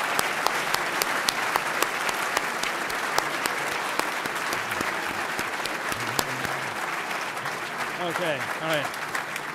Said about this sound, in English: please join me in a clap or two in appreciation of his